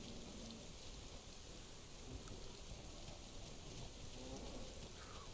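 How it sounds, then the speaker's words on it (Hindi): Rain falls in the Ancient Forest of the video game Monster Hunter: World, a steady soft hiss of rain with low rumbling beneath, continuous and evenly spread throughout. "एंशिएंट फॉरेस्ट में हो रही है बारिश"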